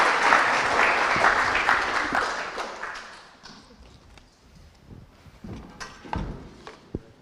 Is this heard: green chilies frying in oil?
no